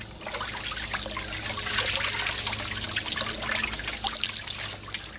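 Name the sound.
animal hide being worked around in a water bath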